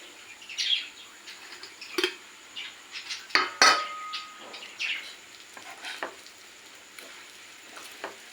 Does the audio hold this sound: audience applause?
no